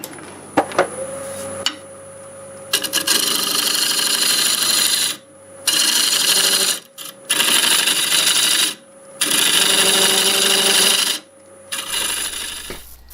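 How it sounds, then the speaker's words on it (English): Olive wood spins on a lathe while a 1/2-inch bowl gouge and a small hollowing tool cut into a cracked bowl, giving loud, bright scraping and hissing bursts in several separate passes with brief pauses between, plus a faint steady lathe tone. "I'm going to work back and forth between that 1/2-inch bowl gouge and this very small hollowing tool."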